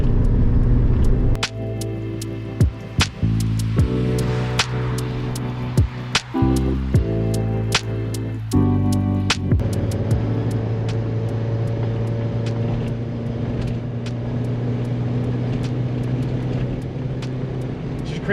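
A modified 1986 Porsche 944 drives a twisty road with hard banked turns, its engine droning steadily inside the cabin as the pitch climbs and drops in stepped gear changes, with sharp clicks and knocks over the engine.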